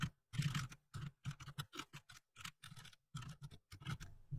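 Fast, uneven keystrokes on a computer keyboard typing out a short program into MBasic 85 on an RC2014 mini Z80 modular computer, close and clear, in bursts with brief pauses and no talking.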